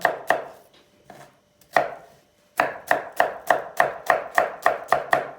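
Onions being sliced with a knife on a cutting board: a few scattered chops, then a quick steady run of about a dozen crisp, evenly spaced cuts, close and clear with no talking.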